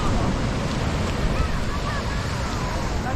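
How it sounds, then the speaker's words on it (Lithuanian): Ocean surf pulls back along the shore on the Hualien coast of Taiwan, a steady broadband wash with wind buffeting the microphone throughout. "čia kaip traukia atgal bangos."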